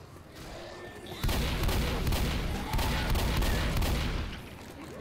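An auto shotgun fires in Left 4 Dead, loud rapid blasts starting after a quiet second and continuing in a dense burst before fading slightly near the end.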